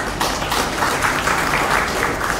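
Applause from an audience at a Hindi-language public event, a steady wash of many hands clapping, loud and continuous throughout.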